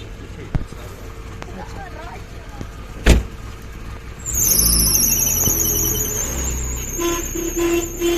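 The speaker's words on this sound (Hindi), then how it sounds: "गाड़ी चली गई जी" A car pulls away after goodbyes, a thump and rising engine rumble with a short toot, moderately close, while people talk over it.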